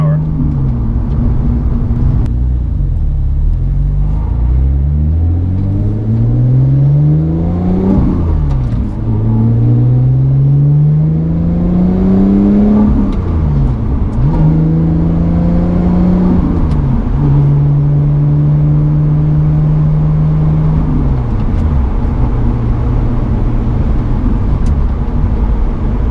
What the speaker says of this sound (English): Clutch in to neutral, straight up to third. And now back on the gas with plenty of power.